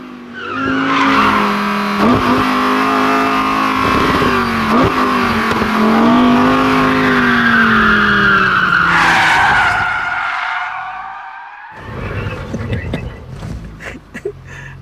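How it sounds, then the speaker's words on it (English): A Lamborghini Huracán LP 580-2 spins out with stability control on, its engine roaring loudly while the tires squeal and skid in long wavering wails before the sound cuts off, followed by rough scraping and rumbling. "Just spun a car with stability control on."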